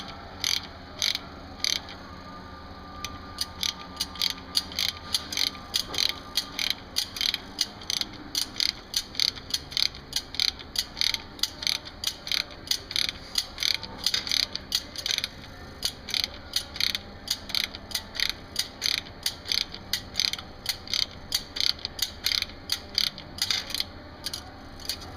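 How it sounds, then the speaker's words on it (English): A ratchet on a 5/8 socket tightens a stud puller on a Barber Surf Rake, with rapid close clicking strokes repeating in steady bursts throughout. "place socket onto the stud puller and tighten to pull in stud to channel"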